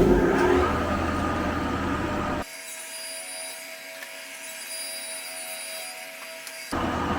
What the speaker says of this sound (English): Main motor.